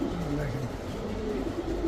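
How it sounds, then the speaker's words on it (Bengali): A female racer pigeon gives soft, low cooing calls close by, with a person talking over it. "এটা মাদি কবুতর"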